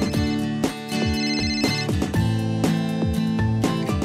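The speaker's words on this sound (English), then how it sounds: "make your GoKey ring so you can find it" A GoKey key-finder plays a loud, repeating electronic ringtone melody with bright, bell-like notes in a quick rhythm, heard alone without any talking.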